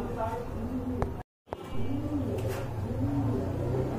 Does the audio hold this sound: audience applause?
no